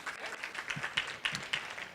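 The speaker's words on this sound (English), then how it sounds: "let's give Julianne a round of applause." Audience applause at a youth summit panel discussion, a short, thin patter of clapping with a few sharper claps standing out, moderately faint and heard alone.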